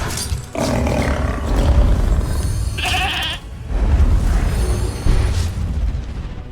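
A goat bleats and roars loudly in the Elder Scrolls Legends card game, a harsh drawn-out cry over dense game noise and music.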